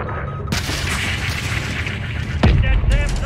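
In Call of Duty: Modern Warfare III, a missile strikes an enemy SAM site, with a sharp boom followed by a heavier deep blast and rumble amid combat noise.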